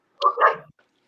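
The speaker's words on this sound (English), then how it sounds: "Sorry about the corgis outside having a puppy pit." Corgis playing outside, giving one short, close bark-like burst with a yelp, lasting well under a second, then quiet.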